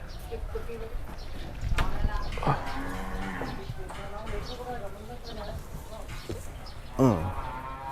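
Crossbred Brahman cattle from northern Thailand moo in a sales pen: a few deep, drawn-out lows at close range, mixed with people talking and shuffling hooves.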